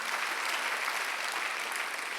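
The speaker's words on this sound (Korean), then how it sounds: "박수 하세요." Congregation applause fills a church Sunday worship service, a steady, dense wash of clapping from many hands continuing without a break, moderately loud and close, with no talking over it.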